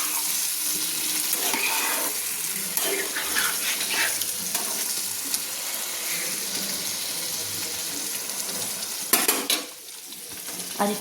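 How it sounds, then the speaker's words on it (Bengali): A metal spatula scrapes and stirs potol chingri, pointed gourd and prawn curry, in a sizzling pan, with repeated scraping strokes over a steady hiss and a louder clatter near the end. "দিয়ে আমি ভালো করে খুন্তি দিয়ে নেড়ে নিচ্ছি"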